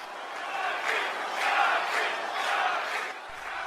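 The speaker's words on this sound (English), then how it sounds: "A very vocal portion of this crowd favoring Shotzi Blackheart" A wrestling crowd cheers and chants loudly at an indoor event, a dense, sustained roar of many voices swelling and pulsing throughout.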